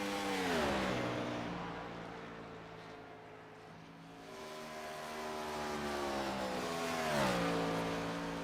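Race cars lap the oval at Atlanta Motor Speedway, engines rising as they approach and falling away in long pitch-shifting passes, heard at moderate distance without talk.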